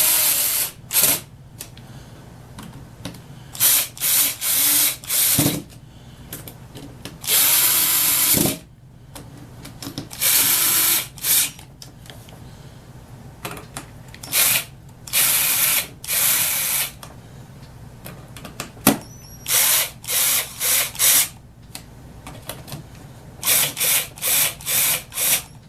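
A Craftsman 14.4V cordless drill runs in repeated short bursts, its motor whirring up loudly and stopping again and again with brief pauses between, close and clear with no talk.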